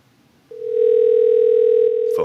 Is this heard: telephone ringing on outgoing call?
yes